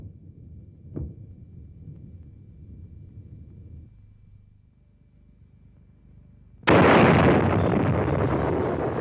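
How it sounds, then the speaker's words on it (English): Nuclear bomb explosion of more than 50 million tons of TNT: a low rumbling background with a brief pop, then a sudden, loud, sustained roaring blast that fills the sound and fades only slightly. "The explosion was the equivalent of more than 50 million tons of TNT"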